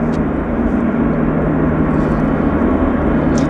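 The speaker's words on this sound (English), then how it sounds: "This is our flight from Narita, Japan, making its way to the gate" Airliner arriving from Narita taxiing to the gate at Vancouver airport, a loud, steady engine drone with a low hum, unbroken for the whole stretch and no talk over it.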